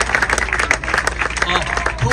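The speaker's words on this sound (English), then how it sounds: "Let's give an applause for Speaker Adrian Adams" Brief burst of crowd applause for City Council Speaker Adrian Adams at an outdoor street-naming event on Allama Iqbal Avenue in Richmond Hill, New York, dense clapping close by with voices mixed in.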